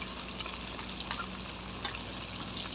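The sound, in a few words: pompano fish frying in a pan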